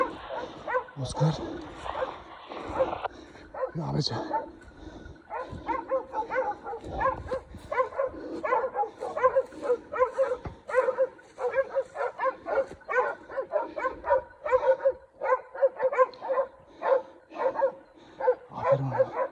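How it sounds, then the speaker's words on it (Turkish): A pack of hunting dogs at a cornered wild boar keeps up a dense, rhythmic barking, near and loud, with yips and whines. Someone talks and praises the dogs throughout. "Evet, köpeklerimiz."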